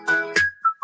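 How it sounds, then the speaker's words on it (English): A short, clean synthetic whistle glides through a few bright pitched notes, thin and electronic in tone, over a brief musical backing from an AI-generated girl group song. "The most computer-sounding whistle I've ever heard."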